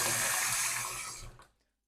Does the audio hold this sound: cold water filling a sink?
yes